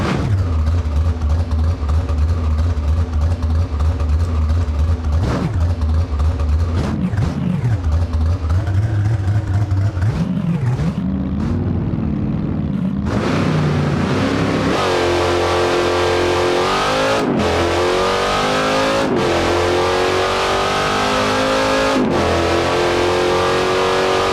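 A turbocharged Trans Am engine in the BeamNG driving game revs loudly and continuously, rising and falling in pitch through repeated throttle blips and gear changes, with a brief lull midway.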